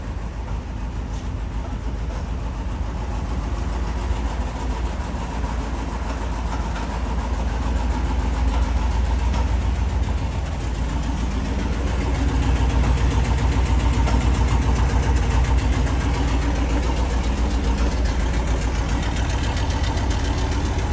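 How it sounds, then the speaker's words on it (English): A 1961 Ford F-250 4x4 truck with a 292 Y-block V8 idles after a cold start, a steady, loud, smooth low rumble with a faint fan clicking, unbroken throughout. "Truck runs great, nice and smooth."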